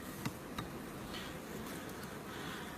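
Honey bees drone in a dense, steady hum from an open beehive during a frame inspection, a soft continuous buzz with a couple of faint clicks of handling near the start.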